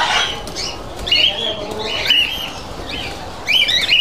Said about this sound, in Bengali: তো সম্ভবত এটা ক্যালিফোর্নিয়ার কোয়েল।